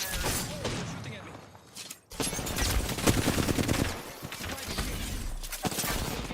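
Rapid enemy gunfire and weapon blasts in a shooter video game, dense bursts of shots and impacts filling the mix, with a brief dropout midway before the firing resumes loud and close.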